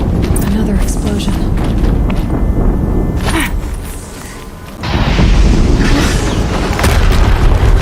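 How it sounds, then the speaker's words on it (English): A deep, loud explosion boom in the action video game Horizon Zero Dawn, a sustained rumbling blast that dips briefly before a second heavy roar swells up, dense and close. "Another explosion."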